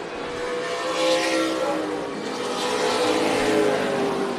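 Stock cars in a NASCAR weekly race at Tucson Speedway, a steady loud roar of several engines running together close by, swelling slightly as the pack passes, with no talk.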